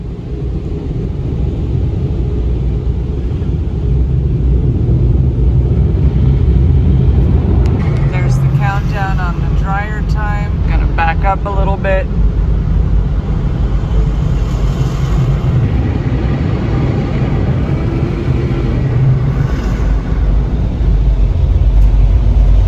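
Automatic touchless car wash dryer blowing over a Tesla, a loud, steady roar of rushing air heard from inside the car for the whole stretch, with a person talking briefly midway.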